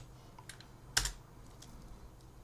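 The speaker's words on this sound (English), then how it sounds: "So press tab and type batch." A few faint, sparse keystrokes on a computer keyboard, with one sharper click standing out among soft taps in a quiet room.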